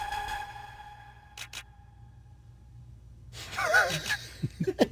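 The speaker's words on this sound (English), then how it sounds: "Like a shutter sound." A camera shutter sound effect in a rock song: a couple of sharp mechanical clicks stand out amid sparse, quiet music, and a short gasp-like burst follows near the end.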